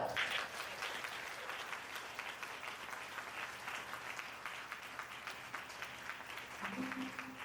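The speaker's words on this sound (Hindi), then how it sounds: "एक बार जोर से ताली बजा।" Loud, sustained applause from a congregation at an Odisha healing and miracle revival meeting, dense clapping filling the whole stretch with a few voices mixed in.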